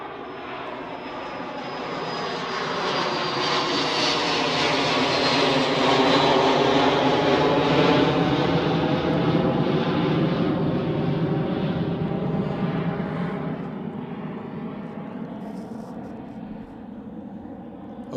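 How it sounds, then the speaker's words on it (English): A 34-year-old Boeing 757, registration LSAJ, bound for Faro at Manchester, roars loudly and close as its engines swell to a peak midway, then slowly fade, with a thin high whine at the start. "757 time. This is LSAJ going to Faro, 34 years old."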